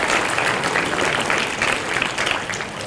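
Loud, close audience applause at a live leadership keynote at William Paterson University, a dense burst of many hands clapping that runs the whole moment and tapers slightly toward the end.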